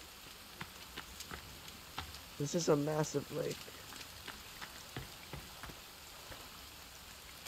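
Rain falls in the survival game The Forest as a soft, continuous patter of drops hitting surfaces, with scattered louder taps heard under a person talking in the middle.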